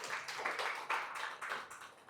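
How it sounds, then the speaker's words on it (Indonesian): Applause from a university classroom, a short patter of clapping from a small group, faint and brief, lasting about two seconds. "tepuk tangan untuk keduanya"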